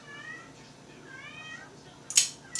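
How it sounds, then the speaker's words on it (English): A pet cat shut in its little cat house whines with several drawn-out meows, near and moderately loud, ending in a sharper cry. "that's our crazy cat, whining"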